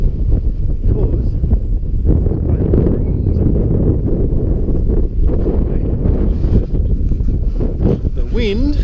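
Strong wind blasts across the microphone on a mountain hike, a loud, constant low roar with gusty surges, and someone talks through it throughout.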